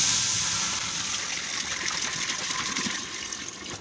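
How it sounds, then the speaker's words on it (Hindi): Water pours steadily from a 3-litre can into a cooking pot while bare paye (beef trotters) are prepared, a close, continuous gushing splash heard alone for a few seconds. "ये देखें, ये मैं पानी डाल रही हूँ।"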